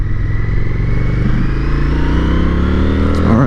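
An Indian FTR 1200 motorcycle on a test ride rumbles steadily at close range, and its engine pitch rises sharply in a rev near the end. No one speaks.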